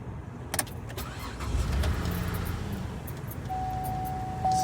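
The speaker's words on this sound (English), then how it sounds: "we're gonna go ahead start the car so you guys can see." A car engine is started using an ANCEL BS200 smart battery starter, with a few clicks, then a low rumble that rises and settles into a quiet, steady idle, heard close by.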